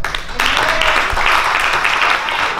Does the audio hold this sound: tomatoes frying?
no